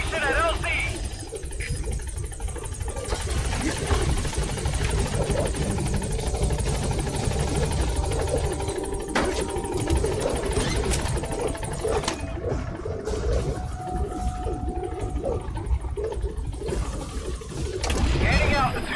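The Pequod helicopter arriving at a landing zone in Metal Gear Solid V: a loud, continuous rotor thrum and turbine whine holds steady throughout, with radio voices speaking over it.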